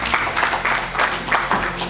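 Audience at a national health programme learning and transition event claps steadily, a dense wash of many hands in rolling bursts throughout, with faint talk underneath.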